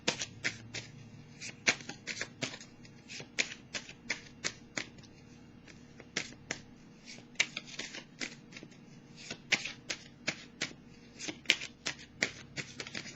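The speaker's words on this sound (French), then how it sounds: "Je vais piger une prochaine carte ici." Tarot cards shuffled and handled close up, a steady run of crisp riffling snaps and slaps repeating through the whole stretch with no talking.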